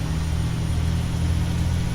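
A Kenworth W900L truck in American Truck Simulator, driving in Missouri, gives a steady low engine drone at moderate revs, a continuous rumble with no talking.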